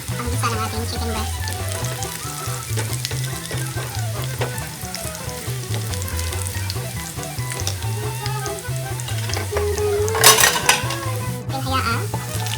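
Chicken breast sautéing in a pan with garlic butter, with a steady close sizzle and clatter and scrape of a utensil stirring against the pan, plus a brief louder burst near the end.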